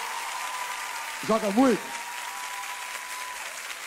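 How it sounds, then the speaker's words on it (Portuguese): A TV studio audience claps for footballer Léo Moura in steady, full applause, with a short spoken phrase cutting in briefly near the middle. "Uma salva de palmas para Léo Moura."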